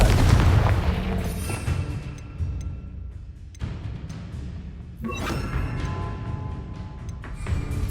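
Confringo fire-blast spell explosions in Hogwarts Legacy: several heavy booming blasts land in sequence, with loud bursts near the start, middle and end and a rumbling tail between them, and no talking over it.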